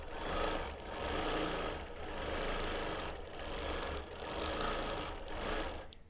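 A quilting sewing machine stitches a feather design on a memory quilt of mixed fabrics, giving a loud, continuous mechanical whir that swells and dips in even passes with no talk.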